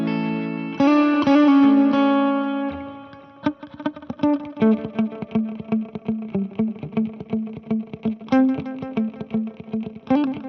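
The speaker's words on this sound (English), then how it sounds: "If I want to add a delay, I can actually add the different delays, like let's add a little space echo." Electric guitar through a space echo delay on a Fender Tone Master Pro, sustained distorted chords followed by a run of rhythmic picked notes, each trailed by repeating echoes, loud and close with no talking.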